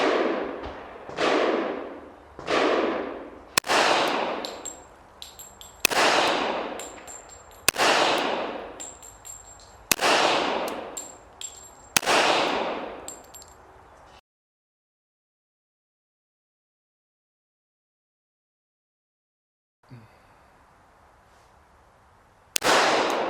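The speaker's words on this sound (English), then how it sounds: "me shooting a 5-round group with these sights at a target" A surplus Ballester-Molina 1911 pistol fires a five-round group at a target seven yards away. There are about seven sharp, loud reports at roughly even intervals, each with a decaying ring. Quiet follows, then a faint shuffle and one more loud report.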